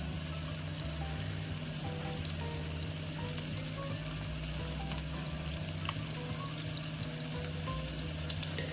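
Seasoned food frying in a pan on the stove, a steady soft sizzle with light crackle that continues evenly throughout, no talking.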